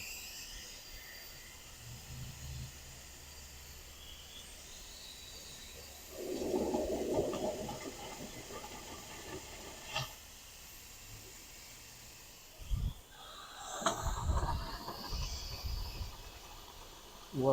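Water and air sputtering and hissing out of plumbing fixtures in a Newmar Ventana 4037 motorhome during winterizing, a soft steady hiss with louder gurgling bursts midway and near the end.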